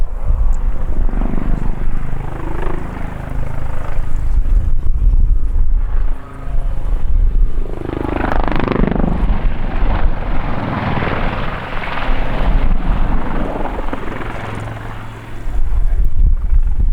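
An Army Lynx Mk 7 military helicopter roars nearby in an airshow display, its engine and rotor noise rising and falling as it maneuvers, with a brief dip midway before swelling loud again.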